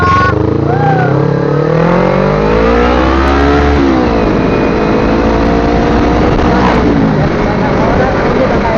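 Motorcycle engine revved hard and repeatedly at close range during a street ride in a village crowd, loud and sustained with rising and falling pitch sweeps; voices are faintly mixed in.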